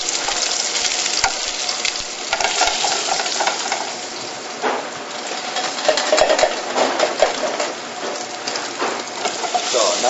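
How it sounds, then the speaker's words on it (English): Scallops sear in a very hot pan with a dense, rain-like sizzle and crackle. The sound is loud and close and keeps going the whole time with small spits and pops, and nobody speaks. "So now this scallop is nicely seared."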